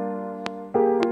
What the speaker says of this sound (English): You can see the wobble effect.